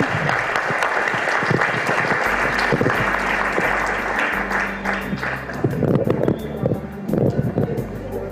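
An audience at a public speaking competition applauds loudly and continuously, dense clapping that swells with a low rumbling undertone, while a voice speaks over it.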